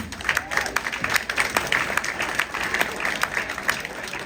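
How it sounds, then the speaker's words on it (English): A comedy club audience applauds continuously for about four seconds, a dense patter of many hands clapping at once with a few sharper claps standing out. "Clap for me if you did dumb stuff in high school."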